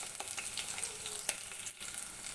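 Garlic fries in a pan for chicken adobo with pineapple, a steady broadband sizzle with faint crackles and one brief dip near the end, close and alone without speech.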